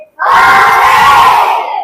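A group of children shout a loud, sustained hooray as one chorus line in a clapping-style sing-along, the cry lasting over a second before cutting off.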